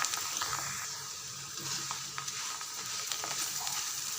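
Corn flakes deep-fry in hot oil with a steady, dense crackling sizzle. The frying is close and constant, with scattered pops and a faint stirring scrape, and no talking is heard.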